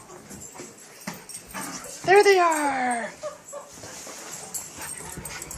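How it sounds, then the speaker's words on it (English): A dog whimpers in a rising, drawn-out whine over a couple of seconds as dogs run and play, amid people talking and scuffling movement nearby. "It's the dogs!"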